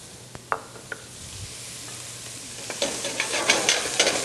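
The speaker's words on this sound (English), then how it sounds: "We'll saute those until they become translucent." Diced white onion, celery and parsnip sauté over moderate heat in a pan, a few sharp clinks of a utensil at first, then a soft sizzle that builds into louder crackling and spattering toward the end.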